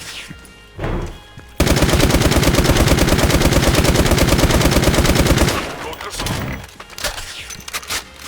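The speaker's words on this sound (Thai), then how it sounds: "ยิงหัวสองนัดตายเหมือนกันครับ" Sustained rapid automatic fire from the chrome Kengcmz gun in the video game Special Force 2, a loud unbroken burst of about four seconds, with talk and a few shots before and after.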